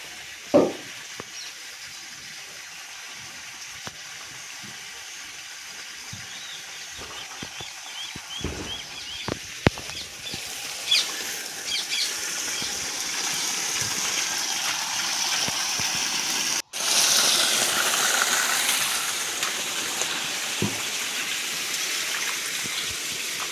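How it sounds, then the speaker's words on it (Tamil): Water gushes steadily through irrigation channels at a rural farm plot, a continuous rushing flow with a faint engine or pump hum beneath and a few sharp knocks, growing louder in the later part. "இந்த நேரம் அப்படியே லைனாக எல்லாத்துக்கும் தண்ணி பாய்ச்சோம்."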